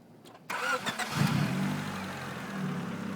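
A 1990-93 Honda Accord engine cranks briefly and catches, then settles into a steady idle with a slight rise, close by, after a moment of near silence.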